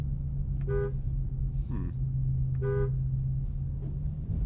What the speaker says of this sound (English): World famous horn test up next.